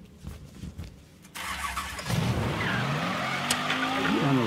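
A car engine revs hard in the Mafia 3 video game, with the car sitting on a lot in Frisco Fields. It sounds close, starting with quieter mechanical noises and then building into loud, sustained revving with some tire squeal.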